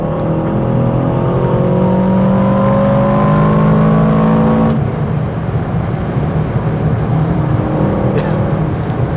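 An Aston Martin DBX707 SUV in sport mode accelerates hard, its engine note climbing steadily through the revs, then a sharp shift and continued loud roar, heard from inside the cabin.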